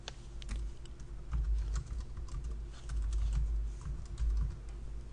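Someone types on a computer keyboard while entering text into a spreadsheet, giving quiet, close clicks in irregular bursts with short pauses and no speech.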